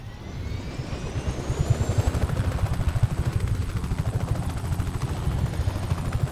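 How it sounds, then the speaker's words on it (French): Helicopter in the open-world action game Just Cause 3, its rotor thudding in a steady rapid pulse with a loud continuous engine drone throughout. "Ah, il y a un autre hélico là."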